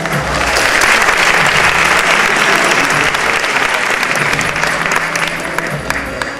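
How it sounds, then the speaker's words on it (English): A pageant audience claps for a judge at a coronation event, a loud, dense burst of applause that carries steadily for several seconds before easing slightly at the end. "Give him a round of applause"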